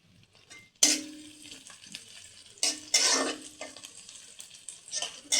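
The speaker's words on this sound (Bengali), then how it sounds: "রসুনটা গরম হয়ে গেছে, এবার পেঁয়াজটা ছেড়ে দিই। পেঁয়াজটা ছেড়ে দিলাম" Chopped onion dropped into hot oil with heated garlic for a spinach dish, giving loud bursts of sizzling and frying with stirring scrapes, then settling into a steady crackle, with no talking.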